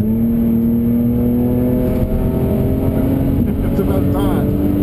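An Audi B8 S4 accelerates on the Pacific Raceway track, its engine a steady, loud, rising drone heard from inside the car, with a faint voice near the end.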